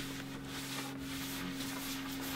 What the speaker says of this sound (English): I'm just gonna be sanding this tabletop off here